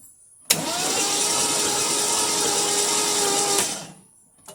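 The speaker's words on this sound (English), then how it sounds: "I'll do it with the key. I'm going to show it right there so you guys can see it while I crank it over" A 1973 Mercury Cougar XR7 engine cranked with the key, a sudden onset of continuous whirring starter grind held for about three seconds before cutting off, close and loud with no talking.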